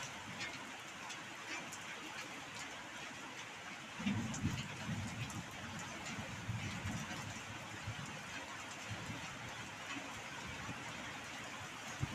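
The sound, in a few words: heavy rain falling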